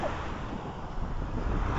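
Sea waves wash onto a beach on the Vistula Spit, a continuous broad rushing surf mixed with wind buffeting the microphone, steady and fairly loud, with no talk.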